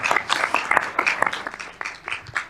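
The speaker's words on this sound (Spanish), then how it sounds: "Te aplaudimos, ¿eh?" Lively audience applause at a side event on climate change risk in UNESCO designated sites, with dense, close individual claps rising and falling in waves over a couple of seconds.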